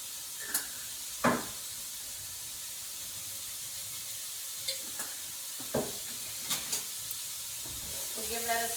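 Vegetables with red pepper flakes cook in a pan, giving a soft continuous sizzle broken by a few sharp clinks and knocks of stirring, with no voice.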